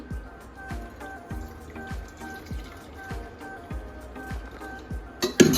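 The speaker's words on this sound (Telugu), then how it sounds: "ఇందులో ఉన్న వాటర్ని వేరే గిన్నెలో వంపేసుకొని" Cooking water is poured from a pressure cooker into another bowl, trickling and dribbling up close in a run of regular small splashes, ending in a louder clatter.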